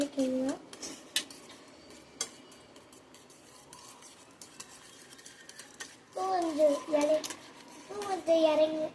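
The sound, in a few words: stirring egg mixture with salt in a bowl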